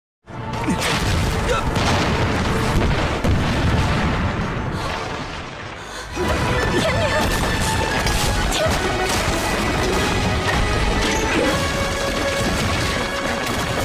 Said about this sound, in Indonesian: Dan seketika, bom meledak dan Tian terjatuh